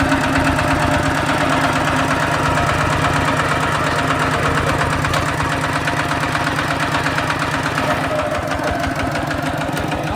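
A Thai farm tractor engine idling nearby with a steady, loud, rapid knocking pulse that holds evenly throughout, no voices.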